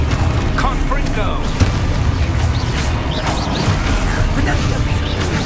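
Confringo blast spells exploding in Hogwarts Legacy amid combat, several sharp booms and crashes scattered through a busy mix with a voice talking over them.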